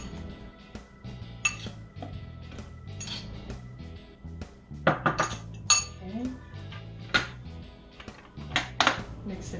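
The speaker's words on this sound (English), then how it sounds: "We're just gonna spoon in some onion" Chopped onion is spooned into a KitchenAid food processor, with repeated clinks and scrapes of a metal spoon against the bowl and loud clatters in the middle, while a person talks throughout.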